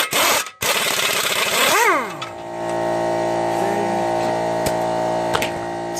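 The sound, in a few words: air compressor running for pneumatic tools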